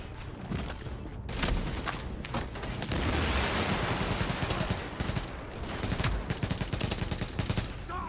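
Sniper rifle fire in a video game, heard as a string of sharp, close shots over a dense, continuous crackling battle noise that carries on throughout.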